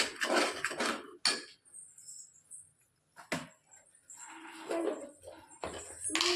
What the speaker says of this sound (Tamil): இப்போ அதில் மசாலாவோட ஸ்மெல்லாம் போகிற வரைக்கும் நல்லா கிண்டிக்கிட்டே இருக்கணும்.